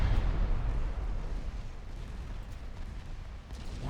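Warship guns booming in the naval battle game Ultimate Admiral Dreadnoughts, a light cruiser group firing at will, heard as a continuous loud, rumbling barrage of overlapping low blasts throughout.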